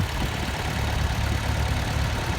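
A farm tractor idles on a cattle farm while hay bales are fed out, giving a steady, loud, continuous engine rumble with no breaks.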